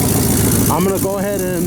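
A seized-then-revived 1978 Chevy truck engine with a dirt-clogged exhaust runs nearby in a steady rumble while someone speaks over it.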